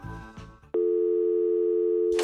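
A broken phone gives a steady, loud busy tone that starts abruptly after a short stretch of other noise and holds unbroken for about a second and a half before cutting off.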